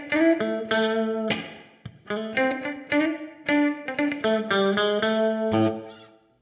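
Electric guitar played through a Meris Mercury X modular reverb pedal set to a short room reverb, with single notes and chords plucked in short phrases, each tail decaying quickly, close and clear with no talking.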